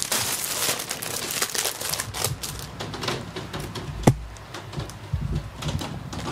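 Protective plastic film peeled off a new motorcycle is crumpled by hand in a steady run of close, dry crinkles and rustles, with one sharp snap partway through.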